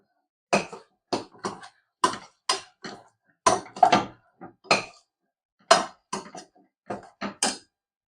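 Tomato bath masala is stirred in a pan with a spoon, giving a string of short, sharp scraping and tapping strokes in an irregular rhythm, close and clear against silence.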